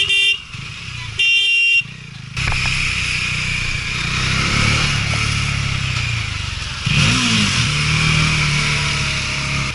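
Bajaj Dominar 400 motorcycle fitted with an SC Project exhaust, run without the dB killer, idling with a deep burbling rumble and brief revs amid traffic noise, with short horn-like tones early on.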